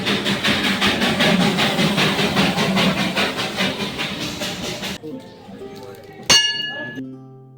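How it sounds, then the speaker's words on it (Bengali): Darjeeling toy train passing close by in a street lined with footpath stalls, a loud rhythmic clatter of wheels and hiss for about five seconds, then quieter street sounds and a sharp metallic clink near the end. "তো সামনে দিয়ে চলে গেল টয় ট্রেন।"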